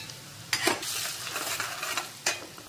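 Asafoetida and dry-ground spices sizzle in hot oil over a low gas flame while kachori filling is cooked, with a steady frying hiss and a few sharp scraping stirs of a spoon in the pan.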